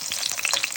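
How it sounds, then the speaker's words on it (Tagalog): Onion frying in hot oil for pork chop steak crackles and sizzles close up in a short, dense burst. "iprito muna natin yung onion"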